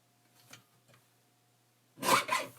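Designer Series paper being cut to 3 1/4 inches for a handmade prayer request book, a brief loud slicing swipe near the end after faint rustling, with no talking.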